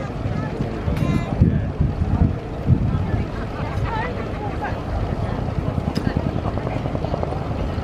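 An aircraft at the RIAT air show flies a display, a broad rumbling roar that swells and fades with wind buffeting the microphone, heard from a distance over a continuous outdoor background.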